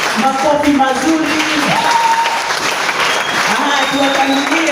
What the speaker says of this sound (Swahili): Pieni makofi mazuri.